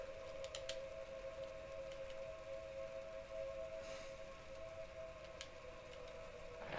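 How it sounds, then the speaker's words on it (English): Sirens in the video game Three Fourths Home: a faint, sustained, wavering siren tone over a soft hiss like rain, holding steady throughout with no speech. "Oh, not the sirens."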